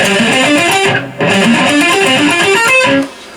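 An electric guitar plays a fast alternate-picked pentatonic riff high on the neck, a quick run of distinct picked notes with a short break in the middle, loud and close with no talking.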